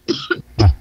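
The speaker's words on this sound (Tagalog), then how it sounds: "Inubo na si ma'am." A woman gives a quick burst of two or three short, close coughs with a throaty clearing edge, loud and dry, with no talking.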